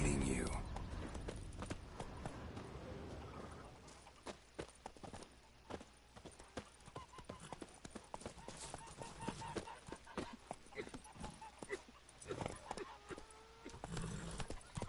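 Horse galloping in The Witcher 3: Wild Hunt, rapid hoof clip-clop running throughout, with a whinny near the start and game voices and music in the mix.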